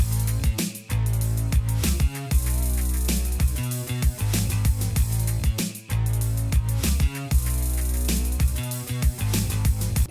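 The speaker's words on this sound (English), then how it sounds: "once the syncope kicks in, the hi-hats go crazy and pans everywhere" Pop EDM beat built in FL Studio, a loud looping pattern of punchy kicks, syncopated off-beat hits and busy hi-hats, steady and dense with a brief drop in the middle.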